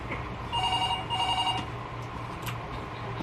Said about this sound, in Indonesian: Telepon tadi di sana